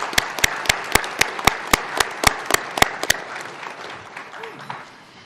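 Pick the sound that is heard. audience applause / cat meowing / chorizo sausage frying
audience applause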